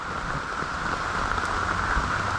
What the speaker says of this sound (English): why am I harvesting the cucumbers when it's raining outside?